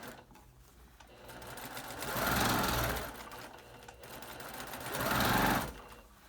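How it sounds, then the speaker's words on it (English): Sewing machine stitching a seam on a fabric face cover with a filter pocket: two close, steady runs of rapid mechanical whirring that swell and ease, separated by a quieter lull of fabric handling, no talk. "I'm going to stitch 1/8 of an inch away from the seam line"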